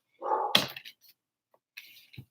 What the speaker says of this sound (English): so you'll forgive the barking, right?